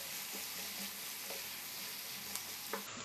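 Potatoes with chili powder sizzle steadily while being stirred and fried in a pan, a dense continuous crackle with a few soft scraping knocks near the end.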